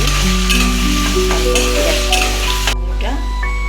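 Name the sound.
potatoes frying in a pan for chowmein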